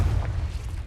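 Confringo explosive curse spell cast in Hogwarts Legacy, a low, heavy booming blast that rumbles steadily through the whole short moment, close and loud.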